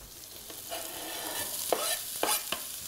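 Dense vegetables frying in a pan with onions and garlic, a steady sizzle broken by several sharp scrapes and clacks of a spoon stirring, close and alone.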